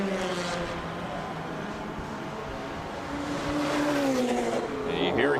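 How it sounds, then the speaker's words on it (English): Ferrari 458 race car exhaust at speed through turn 9 of a street circuit race, a steady high engine note with rising and falling gear tones, under commentary. "Hear him up to speed, full tune coming from the exhaust of that Ferrari 458 as he works his way through turn number 9."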